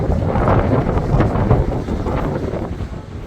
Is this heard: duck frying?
no